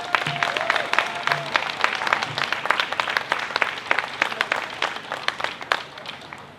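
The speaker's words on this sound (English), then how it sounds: "I just want to give a round of applause for these brave abortion storytellers" An outdoor crowd at the Keene Women's March in October 2021 claps and applauds in a steady, sustained burst lasting several seconds, with no speech over it.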